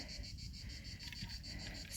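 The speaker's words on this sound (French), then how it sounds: "La bande son vous est offerte par les cigales." Cicadas shrill faintly from a distance on a mountain hiking trail, a steady pulsing buzz that repeats in quick regular bursts, with no talking.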